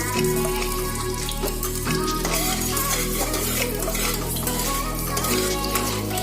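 Cumin seeds fry in heated oil in a pan for veggie noodles, giving a loud, continuous, dense sizzle with scattered light clinks throughout.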